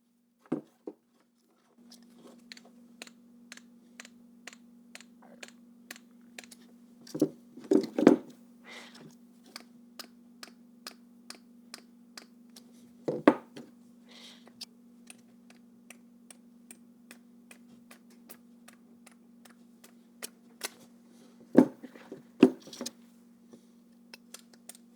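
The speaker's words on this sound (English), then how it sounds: "immediately we can hear the pump going on. Bear in mind, this is currently when the pump is free of any fluid, so it's not primed." An unprimed diesel heater fuel pump running dry, free of any fluid, ticks in a steady rapid rhythm over a low constant hum, with a few louder knocks and clicks scattered through.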